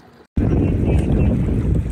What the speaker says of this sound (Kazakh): Көкшетау көлінде қайықпенен сейілдеп жүрміз.